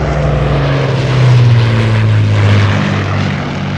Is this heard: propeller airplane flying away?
yes